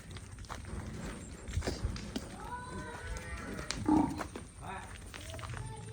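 A bull gives a drawn-out moo amid hoof shuffles and background voices, with a sharper bump near the end.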